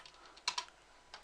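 A command is typed on a computer keyboard as a short, uneven run of close key clicks, with a couple of louder taps.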